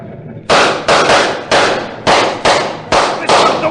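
Volley of gunshots fired at a fleeing wagon in a Sherlock Holmes radio drama, six loud sharp reports in quick uneven succession, each with a short decaying tail, close and dominant.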